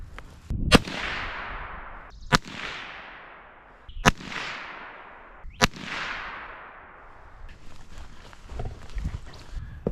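Four sharp .22 Mag rifle shots firing CCI Gamepoint rounds ring out a couple of seconds apart outdoors, each crack trailing a decaying echo, with faint rustling afterward.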